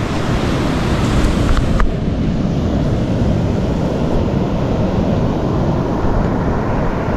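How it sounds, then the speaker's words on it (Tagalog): High ocean waves crash on the shore under strong wind, a dense continuous roar that stays loud and steady throughout, with no voices. "Oh, matataas ang alon."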